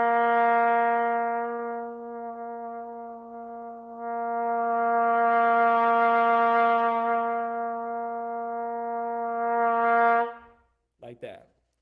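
A single sustained trumpet tone, loud at first, fading softer in the middle, then swelling back to full volume before cutting off with a brief clatter.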